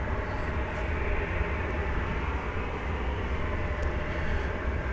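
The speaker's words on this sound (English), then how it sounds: "We got an Airbus A319 going to Lubbock, Texas, flight 357." An Airbus A319 airliner bound for Lubbock at night at DFW Airport: a steady, loud broadband jet roar that holds constant without pause throughout.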